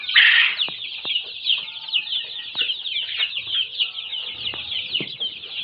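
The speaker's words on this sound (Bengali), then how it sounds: "এগুলা সোনালী ক্লাসিক মুরগির বাচ্চা," Ten-day-old Sonali classic chicken chicks cheep constantly in a dense, high-pitched chorus of overlapping peeps, close and fairly loud throughout, with a few soft knocks and shuffles underneath.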